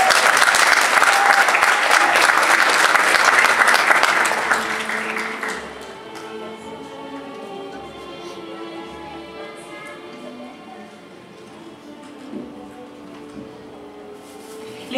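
Audience applause at a university music education degree ceremony, a dense burst of clapping for about five seconds that quickly fades into quiet room tone with faint scattered sounds.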